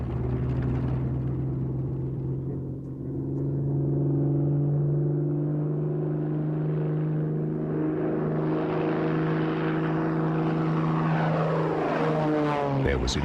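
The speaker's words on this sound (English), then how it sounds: "the first 190, known as V1, taxied down Bremen's airfield to put the new theories to the test." Prototype Focke-Wulf Fw 190 V1 fighter taxiing on the Bremen airfield, a loud steady propeller engine drone with a droning hum that rises and shifts pitch toward the end.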